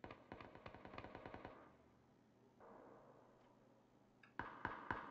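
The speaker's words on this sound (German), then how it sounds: "das sind schallgedämpfte Schüsse" Suppressed gunfire rings out close by in the battle royale game PUBG: a rapid burst of sharp shots, a quieter pause, then a few more cracks at the end.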